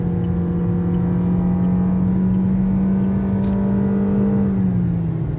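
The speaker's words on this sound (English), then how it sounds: "under full acceleration you can notice the engine note is very apparent" A 2021 Toyota Yaris 1.5-liter four-cylinder engine drones steadily under full acceleration, a sustained low hum with a slowly shifting pitch, close and continuous with a slight drop near the end.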